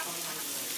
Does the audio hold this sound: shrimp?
yes